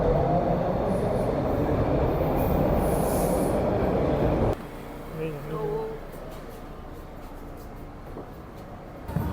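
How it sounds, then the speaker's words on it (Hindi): A Toronto subway train rumbles loudly through a station for the first half, then cuts off, leaving quieter platform ambience with faint squeals and scattered noises; a voice is heard briefly. "ऐसे दिखता है कुछ सबवे स्टेशन यहाँ का।"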